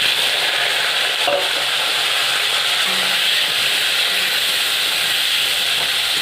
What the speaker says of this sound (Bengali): এই কড়াইতে তেল দিয়েছি গরম হয়ে গেছে ছেড়ে দিচ্ছি